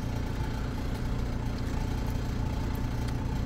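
A car engine idles with a deep, steady, throaty burble from a loud aftermarket exhaust, close and continuous, with no talking.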